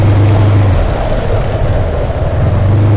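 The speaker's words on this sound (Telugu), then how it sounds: "ముందు ట్రాక్టర్లు పోతున్నాయి." Tractors drive through floodwater in a Vijayawada colony, a loud, continuous engine rumble churning on throughout, heavy and close, with a sloshing, washing roar over the low drone.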